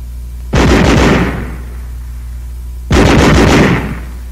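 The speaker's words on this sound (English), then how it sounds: "Weapons giving automatic fire will fire continuously as long as pressure is applied to the trigger" Two sustained bursts of rapid automatic gunfire, loud and close, each lasting about a second with a ringing tail, separated by a pause.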